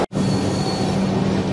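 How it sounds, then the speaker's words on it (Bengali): The 12821 Dhauli Express rolls into Khurja Road junction with a loud, continuous rumble of wheels on rail and a thin, sustained squeal above it, starting after a brief dropout. "ট্রেন এখন ঢুকছে খুর্জা রোড জংশনে"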